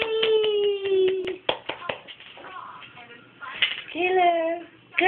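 A baby's hands clap a few times in quick, soft, close taps near the start, then again briefly mid-clip, while an adult voice talks and cheers over and around the claps.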